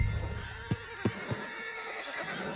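A horse in Red Dead Redemption 2 gives a short neigh as three distinct hoof thuds land close by over steady game ambience.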